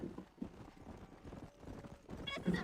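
Hooves clip-clop steadily in Red Dead Redemption, a horse moving briskly over open ground, with dense overlapping thuds and a moderately loud, continuous rumble of movement throughout.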